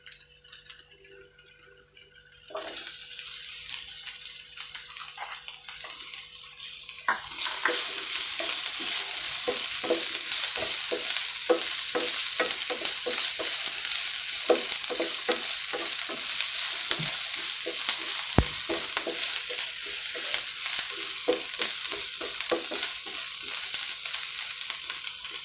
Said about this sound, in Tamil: இப்போ நம்ம எடுத்து வச்சுக்கிற கேப்சிகம் போட்டுக்கலாம்.